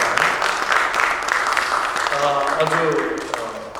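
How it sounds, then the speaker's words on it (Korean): A congregation at a theological seminary's fall semester opening worship service in New York applauds to introduce a pastor, clapping blending with someone speaking Korean over it. "박수로 한번 하겠습니다."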